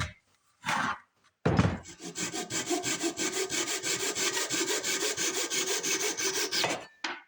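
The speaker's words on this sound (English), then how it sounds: "simply the best flush cut saw in the business" A fine-toothed flush cut handsaw cuts through wood with quick, steady back-and-forth rasping strokes, close up, ending as the cut finishes.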